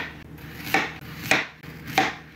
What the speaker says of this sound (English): I'm gonna slice it into about 1-inch rounds.